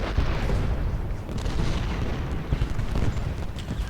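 Shell shot from Civil War artillery in the game Ultimate General Gettysburg goes off as a dense run of booms and bursts, heavy low thuds piling on one another with no gaps, moderately loud and without talk.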